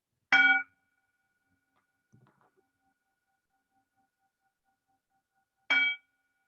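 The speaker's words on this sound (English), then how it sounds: "I'm going to ring the sounding bell 3 times to signify the end of this" A sounding bell rung at the close of a grounding meditation gives two clear, bright strikes about five seconds apart, each ringing briefly in near silence, with a faint soft clink in between.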